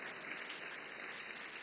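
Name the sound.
audience clapping at summit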